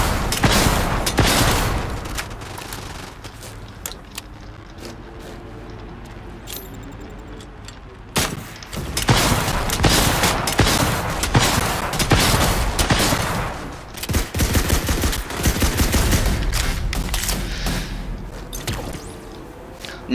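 Video game battle against a world boss with rocket launcher explosions and gunfire, dense bursts of loud blasts and rapid shots coming in clusters with brief lulls between.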